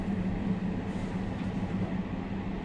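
Steady rumbling of a train ride in the video game Beyond: Two Souls, a low continuous rolling drone inside a railroad car, moderately quiet with no talking.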